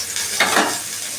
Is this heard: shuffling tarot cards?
no